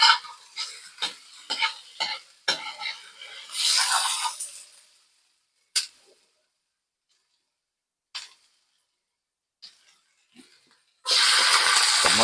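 Garlic frying in a pan with bursts of stirring and scraping, short sizzling spells separated by quiet gaps, then a loud steady sizzle at the end.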